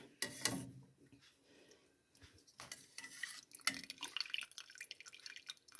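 Cooked meat is lifted out of a pot of broth while making quick clear aspic, with liquid dripping and splashing in short bursts, metal utensils clinking against the pot, fairly close and quiet.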